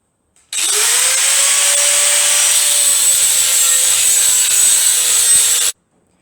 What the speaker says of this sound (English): so I'll get through with the angle grinder, and I'll actually cut these out nice and square so I can face them off